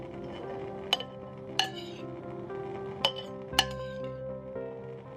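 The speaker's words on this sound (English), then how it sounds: "I'm sterilising 2 jars with some boiling water while the vinegar heats up." Glass jars clink sharply four or five times against each other, set out for sterilising with boiling water while vinegar heats for pickling beetroot, with steady kitchen background hum underneath.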